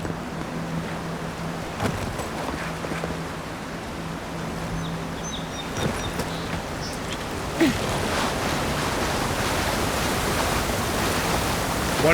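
A waterfall roars in the fantasy game Avowed as a constant, loud broadband rush, with faint game tones and brief clicks over it.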